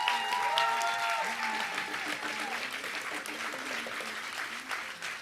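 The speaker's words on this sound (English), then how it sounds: "please give a round of applause to Caressa!" Audience applause at a Witness Theater event at a Manhattan community center, broad steady clapping throughout, with some voices and tones mixed in underneath.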